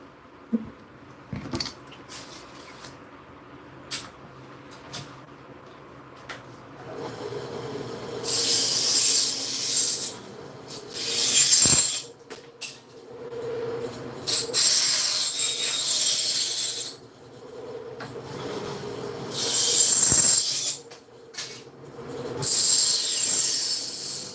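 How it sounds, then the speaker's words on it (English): Small bandsaw cutting a solar screen frame piece, several loud bursts of hissing, rasping blade noise at close range, separated by quieter pauses with faint handling knocks. "Run over to my trusty little bandsaw."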